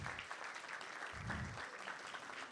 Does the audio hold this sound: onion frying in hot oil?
no